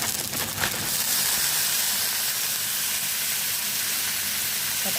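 Onions sizzle steadily in a hot frying pan, a loud, continuous hiss with a few crackles near the start and no talking.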